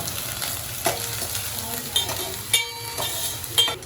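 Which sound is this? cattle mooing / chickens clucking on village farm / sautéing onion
sautéing onion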